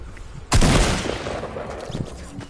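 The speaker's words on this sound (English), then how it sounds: "Stupid shotguns, I swear." A single loud shotgun blast from the video game Fortnite bursts out sharply, then trails into a decaying rumble with a few smaller pops behind it.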